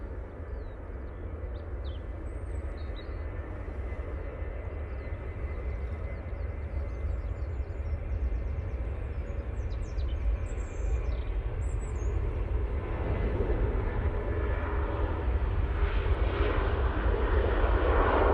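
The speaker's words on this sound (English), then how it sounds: "we do have a Ryanair next. 737-800." A Ryanair Boeing 737-800 jet departs Manchester Airport, its engine roar building steadily from moderate to loud over the span, a continuous rushing rumble with faint chirps above and no voices.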